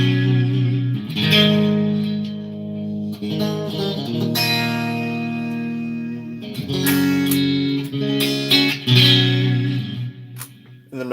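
Clean electric guitar chords played through an HX Stomp ring out with heavy reverb and echo, several strummed passages with sustained tails, played alone at moderate volume.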